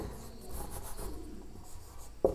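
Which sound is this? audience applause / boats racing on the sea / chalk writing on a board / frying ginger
chalk writing on a board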